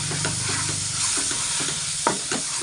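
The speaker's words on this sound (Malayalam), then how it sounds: "ഇനി എല്ലാം കൂടി ഒന്ന് ഇളക്കി യോജിപ്പിക്കുക" Spoon stirring chana masala with cumin and other spice powders in a hot oiled pan, a steady sizzle under a few scraping strokes and a brief louder scrape near the end, with no talk.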